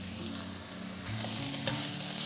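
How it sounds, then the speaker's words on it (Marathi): Fenugreek leaves sauté in a kadai, giving a soft, steady sizzle with occasional stirring scrapes, quiet and close, with no voices. "इथे हे मेथीही परतून झाली आहे"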